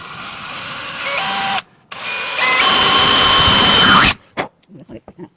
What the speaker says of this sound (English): This is a tricky one because you're drilling on a crown.